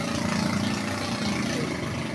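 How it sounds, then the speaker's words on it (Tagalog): A motorcycle tricycle's engine idles in a continuous rough low chug, close and steady, with no one speaking. "Kondisyon naman ang makina natin."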